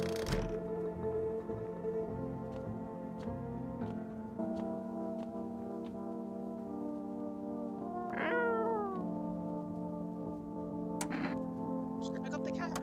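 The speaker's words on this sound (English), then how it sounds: "Just pick up the cat. Meow." A cat meows in a video game, a rising call standing out near the middle of the stretch, with a steady game music bed throughout and brief sharp sounds near the end.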